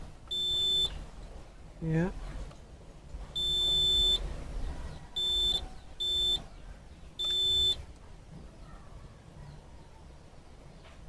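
Multimeter continuity buzzer sounding in several sharp, steady electronic beeps of varying length while probing an Asus X200CA laptop board for a short, close and clear, with a brief spoken word in between.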